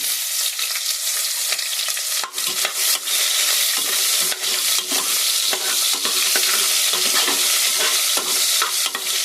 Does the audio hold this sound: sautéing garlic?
yes